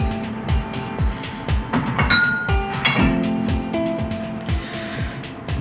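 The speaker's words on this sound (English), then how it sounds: "we're going to rinse the glass with the absinthe." Absinthe is swirled in a cocktail glass on a home bar for a Sazerac, giving repeated close, bright clinks and a ringing glassy tone over an uneven rattling background.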